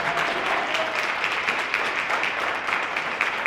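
A crowd applauds steadily for a group of marching brothers after a drill routine, a dense continuous wash of clapping at moderate distance with no voices over it.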